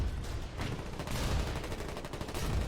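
Rapid gunfire crackles through a battle in the war video game Foxhole, with dense overlapping bursts and sharp repeated shots that sound like a sustained firefight throughout.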